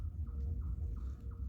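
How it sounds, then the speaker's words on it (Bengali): An unidentified bird calls at night on a mountain trek, giving about four short, faint, evenly spaced notes over a steady low rumble of background noise. "কোনো এক প্রজাতির পাখি ডাকছে,"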